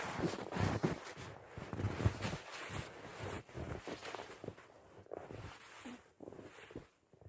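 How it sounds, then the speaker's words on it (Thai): Strong winter wind gusts through a snowy outdoor scene, buffeting the microphone with uneven rumbling blasts and rustling, which ease off toward the end. "โอ้โหลมมากเลยตอนนี้ค่ะ"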